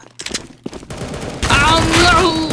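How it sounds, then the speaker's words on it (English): Gunfire in the Roblox game Counter Blox, with a burst of rapid shots and clattering effects that swell louder toward the end. Players' voices are audible earlier and mix with the shooting. "Stop shooting at him."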